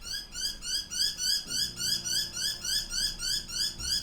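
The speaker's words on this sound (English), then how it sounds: "I think you can hear a bird in the background yelling" A bird calls repeatedly in a steady rhythmic pattern, about three calls per second, fairly clear against a quiet background with a faint low hum entering midway.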